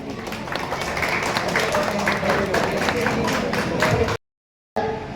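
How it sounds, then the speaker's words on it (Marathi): Audience at an acting workshop inauguration clapping together, a dense steady patter of applause from a room full of people for about four seconds before cutting off abruptly. "सर्वांनी टाळ्या वाजवायच्यात।"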